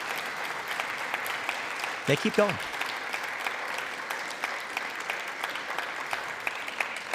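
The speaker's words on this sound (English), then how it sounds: "The Democrats all start clapping." Democrats clap during a speech, heard as a faint, sustained wash of applause in the background while someone briefly speaks over it.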